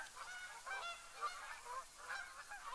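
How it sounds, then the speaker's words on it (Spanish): Geese in the hunting video game El Maestro del Rifle honk repeatedly at a distance, faint and scattered over a steady outdoor background. "Ganso, ganso, ganso, la madre que los parió a los gansos"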